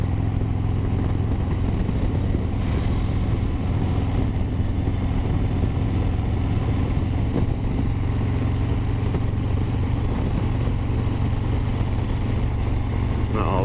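Harley-Davidson CVO Street Glide or Road Glide with a 114 engine cruising in fourth gear at about 55 mph, a steady low rumble with heavy wind roar, continuous and close from the rider's position.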